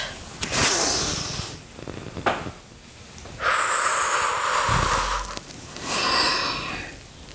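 Loud, breathy exhalations come during a stretching routine, several long airy pushes of breath close to the microphone, separated by brief quieter pauses.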